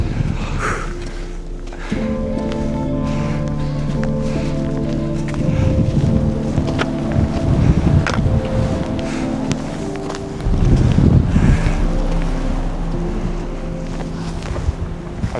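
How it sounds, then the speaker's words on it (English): Strong winter wind roars across the summit of Ben Vorlich above Loch Earn, buffeting the microphone with a steady, loud rush that swells into heavier gusts midway and again near the end, with no talk. "it's so windy up there"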